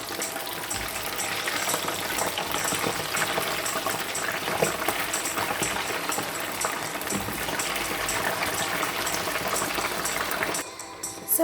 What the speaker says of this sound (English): the yam is already frying